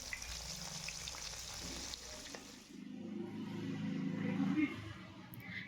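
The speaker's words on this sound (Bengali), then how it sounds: "মাছগুলি এখানে খুব বেশি সময় ধরে ভাজবো না, এপিঠ ওপিঠ উল্টে লাল করে একটু ভেজে নেব।" Koi fish fry in hot oil in a pan with a soft, steady sizzle that swells slightly in the second half and stays fairly faint throughout.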